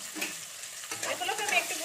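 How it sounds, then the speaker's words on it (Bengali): Chopped onions hit hot oil in a pan, bursting from near quiet into a loud, close hiss that then carries on as steady sizzling while they are stirred. "এগুলোকে আমি একটু ভেজে নেবো লাল লাল করে।"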